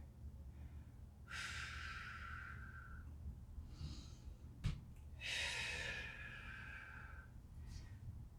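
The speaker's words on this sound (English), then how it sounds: "Nice deep breath here." Deep breaths during a stick mobility stretching workout with backbends and hip openers: two long, airy breaths, each lasting about two seconds, close to the mic, separated by a quiet pause and a brief soft thump.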